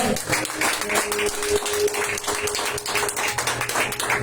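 A church congregation claps together after a prayer at a Spanish-language service, a fairly quiet, steady patter of many hands that runs for several seconds with no talking over it.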